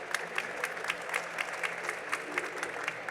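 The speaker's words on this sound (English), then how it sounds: "I would say a big round of applause for our panelists." A conference audience claps for panelists at a blockchain convention, the applause soft and thin, with scattered individual claps popping out in an uneven rhythm rather than a full ovation.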